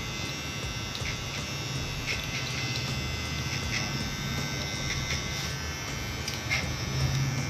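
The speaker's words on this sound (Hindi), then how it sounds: "ट्रिमर है उसको चलाना है।" Electric hair trimmer buzzing steadily during a haircut, a continuous faint whirring hum with small changes in pitch as it moves through the hair, without speech.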